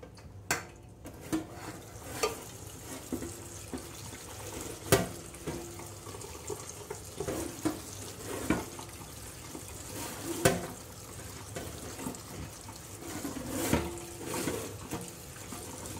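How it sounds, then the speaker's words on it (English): Chopped vegetables for sweet pickle relish are rinsed in a colander under a cold kitchen tap, with running water, irregular splashes and clatter from stirring and shifting pieces, moderately close and without talk. "and then rinse it in cold water."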